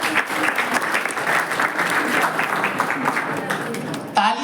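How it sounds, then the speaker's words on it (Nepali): A school event audience bursts into sustained, dense applause, many hands clapping together loudly and evenly for several seconds before it begins to thin out at the end. "यहाँहरू पढ्ने विद्यालय जसले मेहनत गर्दै तपाईँले यहाँसम्म पुर्याउनु भएको छ त्यो विद्यालयलाई पनि ताली बजाइदिनु होला।"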